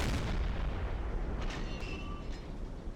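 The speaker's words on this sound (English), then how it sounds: "I'm seeing a lot of explosions" Heavy rumbling explosions and booms from 105mm HE shells hitting a ship in the naval game Silent Hunter 3 roll continuously, with a few sharper bursts and a faint whistling tone mixed in, loud and dense throughout.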